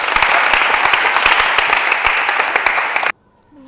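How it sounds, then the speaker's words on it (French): A room of people at an open youth choir event applauds steadily with dense, even clapping for about three seconds, then it cuts off abruptly into near silence. "On va l'encourager par nos applaudissements."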